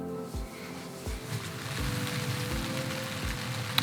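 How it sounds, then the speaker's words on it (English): Rain pattering on a Zpacks Altaplex tent during an on-and-off shower, a steady close hiss of drops on the fabric with soft low thumps recurring about every three quarters of a second. "it's been raining on and off for about a couple hours now"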